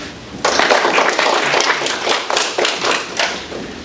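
An audience claps and applauds steadily for several seconds, the sound starting abruptly and staying dense with overlapping claps and a few sharper slaps.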